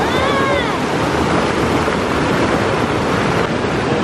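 A waterfall pours steadily, giving a loud, continuous broadband rush of falling water with no pauses across the whole stretch.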